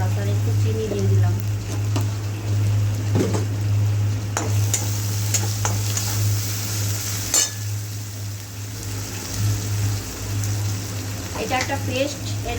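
Red chili powder and sugar frying in hot oil, a steady close sizzle with scraping stirs and clinks from a utensil, a low hum running underneath throughout.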